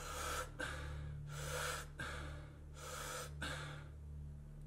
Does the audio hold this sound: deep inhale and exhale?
yes